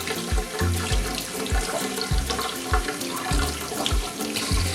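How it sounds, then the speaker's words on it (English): Spinach is washed bunch by bunch under a running kitchen tap into a sink, with steady splashing water and repeated low thumps as the leaves are dunked and shaken, no voices. "Wash them one by one."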